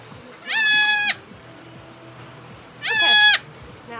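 A baby goat kid bleats twice during disbudding, two loud, close, strained cries about two seconds apart with quiet handling noise between them.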